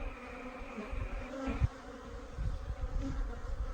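Honey bees buzz steadily around an open hive frame of brood, a dense close hum with no voices.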